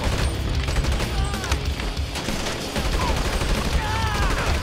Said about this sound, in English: Oh, it's just bullets.